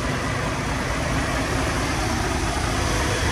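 The engine of a 1948 Chevrolet Stylemaster four-door sedan idles, running on old gas and in need of a carburetor rebuild. It gives a steady, continuous rumble close by, with no talking over it.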